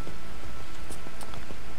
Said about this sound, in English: and it's even raining.